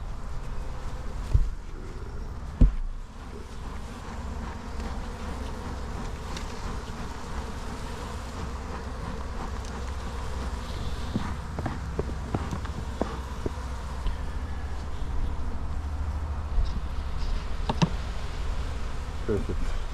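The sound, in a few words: honey bees buzzing around an open hive after a swarm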